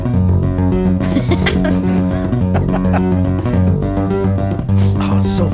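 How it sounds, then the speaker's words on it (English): A bass guitar plays a busy solo of ringing add11 chords, loud and continuous with a dense rhythmic flow. "a bass solo, and it's just consisting of a series of add 11"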